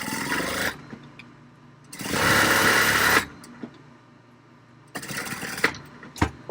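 A sewing machine stitches the seam of a fabric project bag in three separate close bursts of rapid, steady whirring, with quiet pauses between them as the presser foot is lifted and the fabric turned.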